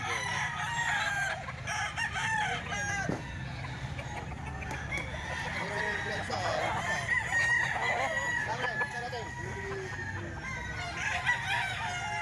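A three-year-old ball stag rooster crows repeatedly among other clucking fowl, the calls loud and near over a busy farmyard background.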